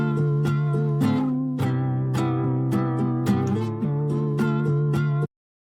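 Plucked acoustic guitar verse part with a flanger effect, bright and ukulele-like, close and clear, with rhythmic strummed notes and chords repeating for about five seconds before stopping.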